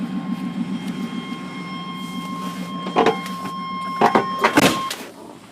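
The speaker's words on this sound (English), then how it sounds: "Going around to the motor, you can hear it running." A car with a true dual straight-pipe exhaust idles with a low, steady, pulsing rumble, while a few sharp knocks and clunks come near the end.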